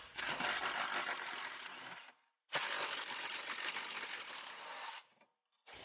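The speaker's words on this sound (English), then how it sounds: "You'll need the 14mm socket with the long extension next to remove both inner mounting bolts of" Ratchet socket wrench with a 14mm socket on a long extension loosening the inner upper control arm mounting bolts of a 2006 Honda Civic: two long, close, steady ratcheting bursts with a short pause between, no talk.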